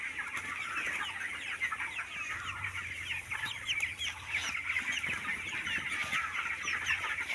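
Broiler chickens on a poultry farm cluck continuously, a dense flock of overlapping calls heard up close and steady throughout, with no talking.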